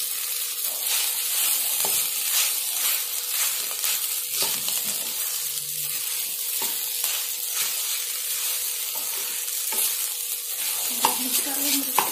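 Sabudana khichdi is stirred in a pan over steady background sizzle, with repeated scraping and clinking strokes of the spoon against the metal throughout, close and fairly loud with no talking.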